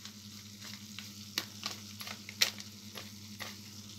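Masala with turmeric and chili powder frying over a low flame, a soft steady sizzle with brief scraping stirs of a spoon against the pan.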